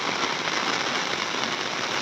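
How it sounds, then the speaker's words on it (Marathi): Heavy cloudburst rain pours down in Mukhed taluka, a dense, loud, continuous hiss of rain striking surfaces with no pauses. "मुखेड तालुक्यामध्ये भरपूर पाऊस जेरी आहे मित्रांनो"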